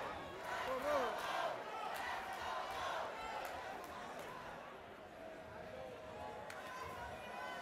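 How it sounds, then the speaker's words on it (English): Crowd at a 178-pound masters wrestling match cheering and murmuring, a moderate steady roar of voices with scattered shouts, somewhat distant and fairly faint, with thuds from the mat. "You can hear the crowd."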